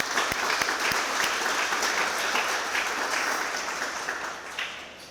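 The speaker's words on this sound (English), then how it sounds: "So give yourselves a round of applause" A hall audience at the WiVLA 2024 event applauds the board and organizers, a full round of many hands clapping with a few sharp nearby claps at the start, slowly tapering off over about five seconds.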